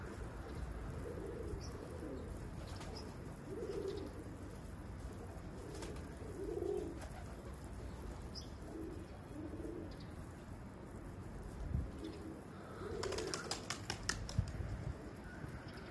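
Tumbler pigeons cooing softly on a coop in repeated low, throaty phrases, fairly faint and spread across the scene, with a few sharp clicks and taps near the end and no speech.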